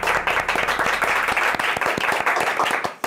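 A studio audience on a Turkish TV show claps steadily throughout, a dense patter of many hands at moderate loudness, with no voices standing out.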